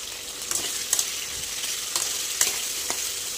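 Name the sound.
potatoes frying in a pan until reddish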